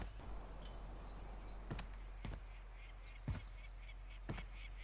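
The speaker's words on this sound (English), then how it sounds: "now listen to what happens when you run with the SAI" Sparse footsteps from tactical sprinting with the SAI pistol in Warzone, a few sharp clicks spaced roughly a second apart over a low ambient hum.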